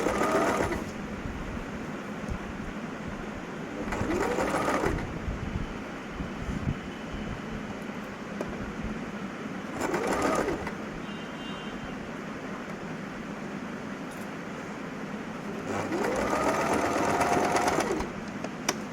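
A sewing machine stitching box pleats with a thick stitch runs in a continuous close mechanical whir, swelling into louder bursts three times as the motor speeds up, with no talk over it.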